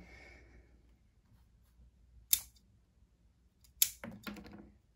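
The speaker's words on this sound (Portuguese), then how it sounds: "vou fazer uma limpeza cortando algumas folhas aqui." Scissors snip leaves while a small-leaf jade plant is pruned, giving two sharp, close cuts with a little rustle afterward in an otherwise quiet room.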